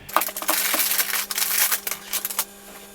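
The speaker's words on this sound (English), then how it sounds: "I'll get this out of the bag" Part for a Cross RC GC4 1/10 Gaz 66 truck kit being pulled from a plastic bag, giving dense crackling and rustling bursts close by with no talking.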